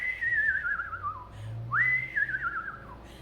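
A screech owl gives two descending whistled calls, soft pony-like whinnies that slide downward, heard fairly close in a quiet night setting.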